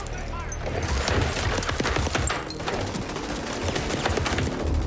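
Video game trailer gunfire, rapid bursts of shots and sharp bullet impacts crackling almost continuously, with some low thuds and mixed game sound effects throughout.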